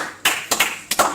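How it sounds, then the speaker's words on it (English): A few sharp, separate hand claps at an uneven rhythm, close and fairly loud, with short gaps of quiet between them and no talking. "Come on, clap with me."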